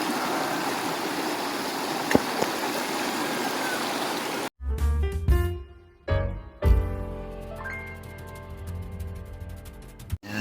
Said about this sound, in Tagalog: Dito kami guys naglalaba sa napakalaking ilog.